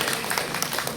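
A group of school teachers at an outdoor outbound character-building event claps together in a dense, sustained burst of applause.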